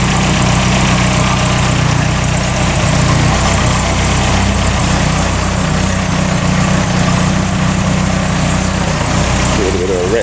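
A classic car's engine idles steadily for the first time in two and a half years after restoration, with its timing not yet set properly, giving a loud, continuous low rumble with a slight change near the end.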